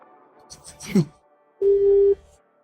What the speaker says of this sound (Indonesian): Benar, aku akan telepon papa sekarang.